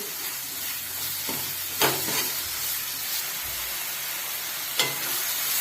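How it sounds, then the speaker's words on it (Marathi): Sambar masala mixed with jaggery and tamarind sautéing in a pan, a steady soft sizzle and hiss with a few brief scraping stirs standing out, fairly quiet and close. "हे पूर्ण असं एकत्र करायचं आहे आणि असं 1-2 मिनिटं परतून द्यायचं आहे."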